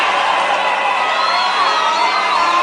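Crowd at the launch of a railway line cheering and whooping for President Museveni, a continuous loud roar of many voices with shouts and high cries, no clear single speaker.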